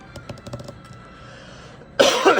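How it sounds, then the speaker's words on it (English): A woman coughs in a quick series of soft, close bursts, followed by a louder rough throat-clearing cough at the end. "Come on, cough. Stop coughing."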